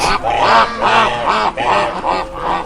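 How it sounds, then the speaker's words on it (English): A duck quacks loudly and close, giving about five drawn-out nasal calls in steady succession with no other sound around them. "Duck,"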